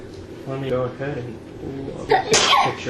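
A single sharp sneeze bursts out near the end, right after a person speaks calmly in an indoor setting.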